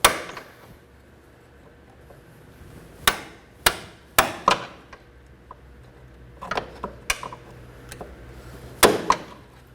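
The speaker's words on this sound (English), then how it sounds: "using a small pry bar and a hammer, go ahead and break it off" Sharp metallic hammer strikes on a small pry bar set against a tie rod boot clamp tab on a 2011-2016 Kia Optima, about a dozen close, isolated blows in small bursts with quiet gaps between them.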